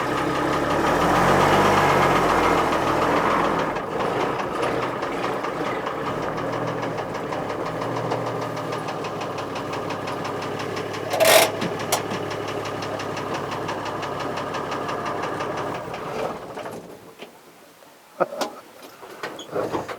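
Old K-series Trader truck engine from around the early 1960s running loud and steady with a knocking idle, a sharp clunk midway, then dropping off near the end with a few brief knocks.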